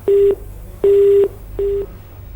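A telephone call disconnects and three clear electronic beeps follow in an even rhythm. The last beep is slightly shorter and quieter than the first two.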